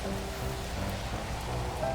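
Acid rain falls steadily in a Roblox disaster game, a dense, even hiss of rainfall with no pauses, moderately quiet and alone.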